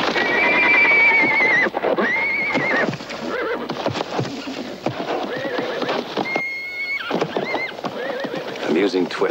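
Horses neigh loudly and repeatedly while hooves stamp and clatter nearby, with voices talking over the commotion.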